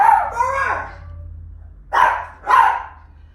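Two sharp barks from pet dogs at home ring out close by after an opening whine-like yelp, each burst short and loud with a quiet gap between them.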